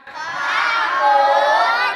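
A studio audience on a Thai television game show shouts an answer together, a loud, sustained crowd chorus of many voices rising quickly and holding for about two seconds.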